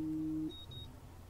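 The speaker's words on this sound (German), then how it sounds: "Oh, Wecker." Alarm clock in Life is Strange beeping as a single short electronic tone, faint and brief, then cutting off into quiet.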